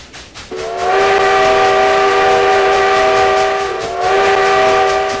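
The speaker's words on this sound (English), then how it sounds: "This whistle is one I kind of stole from Microsoft Train Simulator locomotive." A loud steam locomotive whistle in the Trainz 12 simulator game sounds two long blasts, the first held for several seconds, then a brief pause and a second blast.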